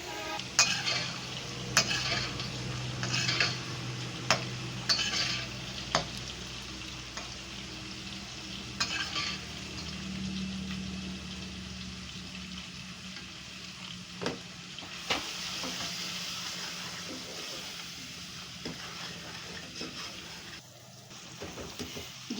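Masala of onion, green chili and garlic-ginger paste fries and sizzles in a pan, with steady crackling broken by repeated sharp scrapes and clinks of a spoon stirring, close and alone.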